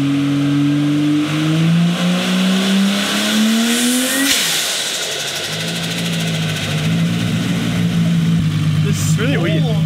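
A Holden VL turbo engine with a dose pipe revs up, its turbo spool climbing in pitch before a sharp release, then settles to a steady drone, close and loud with a voice briefly heard.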